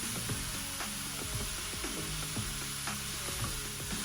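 Chicken pieces for an Ecuadorian stew sizzle steadily as they fry in a pot, with repeated scraping knocks from stirring giving an uneven rhythm over the continuous close hiss.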